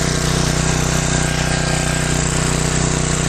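A small gasoline generator runs on HHO during a run-time test, its engine droning loud and steady with a fast, even chugging pulse throughout, close to the microphone.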